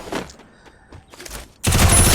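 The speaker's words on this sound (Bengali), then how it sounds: "ইউএমপি দিয়ে ওয়ানটা হেডশট।" UMP gunfire in the mobile game Free Fire: a few scattered shots at first, then a dense loud burst of rapid firing at the end, no talking over it.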